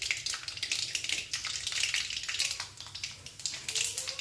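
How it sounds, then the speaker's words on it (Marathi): Mustard seeds and cumin crackle and sizzle in hot oil in a wok, a steady, close hiss with rapid popping bursts throughout, heard alone. "आता कढईमध्ये 2-3 चमचे तेल टाकून त्याच्यामध्ये थोडीशी मोहरी"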